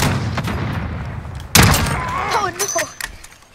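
A loud gunshot blast in Call of Duty: Modern Warfare, preceded by a rumbling battle bed and followed by a decaying rumble and short burst of sharp shots, with a voice speaking over the end.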